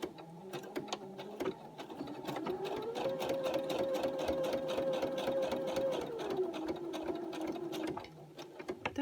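A sewing machine stitches paper decorations for a handmade explosion box, its needle hammering in a steady rapid rhythm that rises in pitch and speed mid-run before slowing again, loud and close with no talk.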